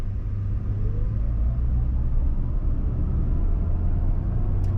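A steady low rumble of an electric pickup truck pulling a trailer, accelerating from a standstill toward 60 mph on a 58% charge, with tire and wind roar building evenly and no engine revving.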